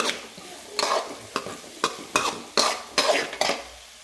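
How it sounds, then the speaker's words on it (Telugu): Carrot fry with turmeric is stirred in a pan, a spatula scraping in about eight rhythmic, close strokes over a light sizzle. "ఇందులో చిటికెడు పసుపు వేసేసుకున్నాము వేసిన తర్వాత బాగా కలుపుకోవాలి"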